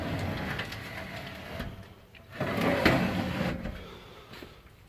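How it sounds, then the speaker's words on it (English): A homemade drawer on rollers slides open and then shut, giving two rolling rumbles with a short pause between them, heard close up with no talking. "That was the drawer rollers I got, but yeah, that comes out"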